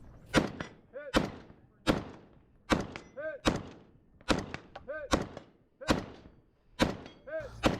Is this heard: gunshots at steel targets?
yes